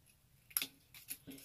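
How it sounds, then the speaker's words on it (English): Scissors snip paper greeting cards in three quick, crisp cuts close by, quiet and alone against a faint background. "I'm going to cut out the images that I can salvage. So you guys, use your scissors as well"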